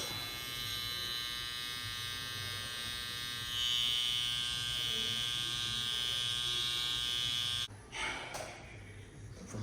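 Electric hair clippers buzz steadily and up close while cutting a taper fade, the hum rising slightly in pitch partway through before cutting out into a few soft handling rustles.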